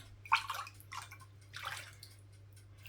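A glass of water poured into yogurt in a bowl while mixing börek dough, a few short splashing pours close by, separated by brief pauses, over a low steady hum.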